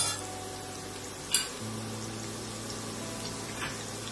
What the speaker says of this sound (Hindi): और सबसे पहले हम इसके अंदर जिंजर गार्लिक पेस्ट थोड़ा सा सौते करेंगे।